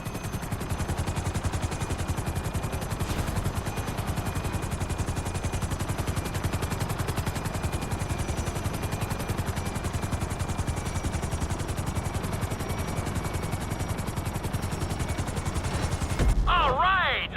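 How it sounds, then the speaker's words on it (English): Helicopter rotor thumping steadily and loudly as it sets down on a helipad in Grand Theft Auto V, a continuous dense chop throughout with a brief shift in sound near the end. "Bring the helicopter down gently onto the helipad."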